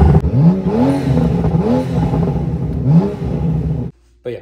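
A BMW E92 engine with stock exhaust revs repeatedly, rising and falling in pitch with a throaty exhaust note, then cuts off briefly before a short restart.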